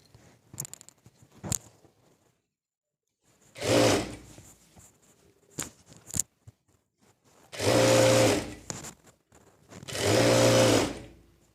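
A sewing machine stitches the border of a set mundu in three bursts, two to three seconds each, with a fast steady whirring hum. Quiet clicks and fabric handling fill the pauses, and no one speaks.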